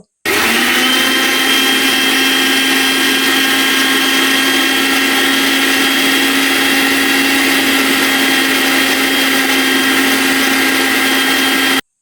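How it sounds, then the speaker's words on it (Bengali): An electric blender whirs at high speed, blending lychee with ice cubes into juice, a loud steady motor drone with a constant hum that starts abruptly and runs unbroken for about eleven seconds before cutting off. "এবার ব্লেন্ডারের চাকটা আটকিয়ে এটাকে ব্লেন্ড করে নিব লিচুটা পুরোপুরি মেল্ট হয়ে যাওয়া পর্যন্ত"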